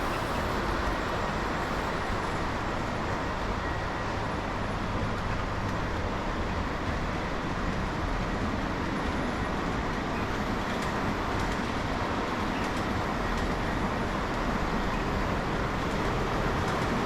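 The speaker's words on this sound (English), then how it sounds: "We're going to run some trains today." An O gauge model train runs continuously with a steady rumbling clatter, an even mechanical drone that holds throughout without pauses.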